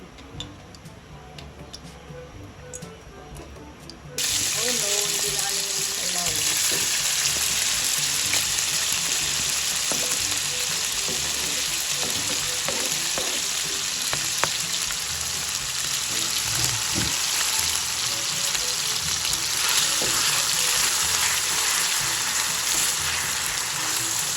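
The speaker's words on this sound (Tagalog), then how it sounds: "bago tayo magluto ng sauce ay ipiprito po muna natin yung ham" Ham frying in a pan for carbonara, a loud continuous sizzle that starts abruptly and holds steady, with faint ticking and occasional stirring clicks.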